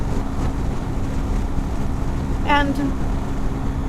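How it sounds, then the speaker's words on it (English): Steady broadband wind roar buffets the microphone while riding two-up on a BMW 1300 motorcycle, constant and fairly loud throughout, with a brief high whistling chirp midway. "The wind noise is just as bad though as it is on the 1250."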